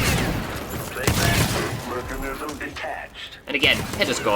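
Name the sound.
pistol shots in the video game Dishonored 2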